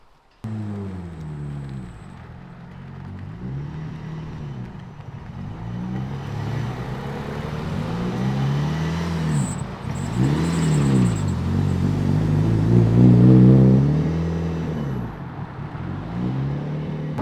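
A powerful big-turbo Mitsubishi Evo IV with 614 brake horsepower revs up and down repeatedly through gear changes, growing louder as it approaches and roars past.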